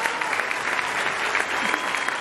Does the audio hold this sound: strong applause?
yes